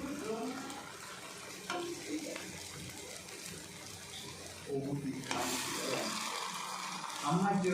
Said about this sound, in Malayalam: അവിടെ നമുക്ക് ഈ മുട്ടയുടെ കൂട്ടൊന്ന് നമുക്ക് ഇതൊന്ന് ഒഴിച്ചു കൊടുക്കാം കേട്ടോ